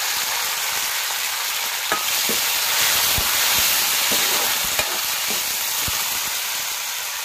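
Panch phoron whole spices crackle and sizzle in hot oil, a steady broadband frying hiss with scattered sharp pops from bursting seeds, close and fairly loud, with no voices.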